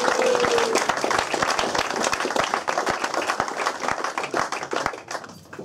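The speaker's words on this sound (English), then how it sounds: "So if we can give Tom a little round of applause in his absence," An audience at a football club presentation evening gives a round of applause for Tom Jeffs, loud brisk clapping with distinct individual claps that thins out and tapers off toward the end.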